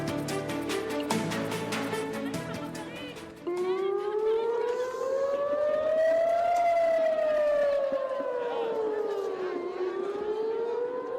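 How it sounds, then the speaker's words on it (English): Air raid sirens wail over Tel Aviv, a loud rising and falling tone that swells and dips again, with a second siren layer joining partway through, sustained without pause. "That's the sound of air raid sirens going off in Tel Aviv Thursday"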